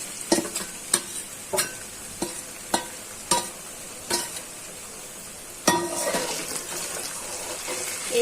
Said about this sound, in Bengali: এখন মাখানো কাসকি মাছটা গরম তেলে ছেড়ে দিচ্ছি।